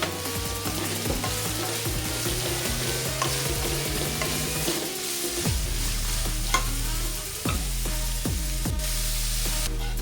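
Finely chopped onions and garlic fry in a pan with a steady sizzle as a spatula stirs and clanks against the metal, several sharp scrapes and knocks toward the end, close and unaccompanied by talk.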